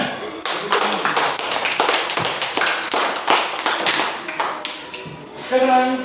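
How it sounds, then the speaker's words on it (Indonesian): A class of schoolchildren in a Catholic religious education lesson clapping together, loud rapid hand claps in a dense burst that keeps going, with voices briefly heard near the end. "Tepuk tangan."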